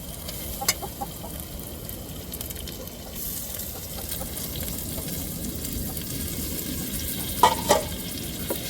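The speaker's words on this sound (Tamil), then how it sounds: "இப்போ நம்ம நல்லா தக்காளியை வதக்கிட்டுருவோம்" Tomatoes with chilli and mint sautéing in a pan for a mutton intestine curry, a steady close sizzle with stirring and a few brief scrapes and clatters of the spoon; no one talks.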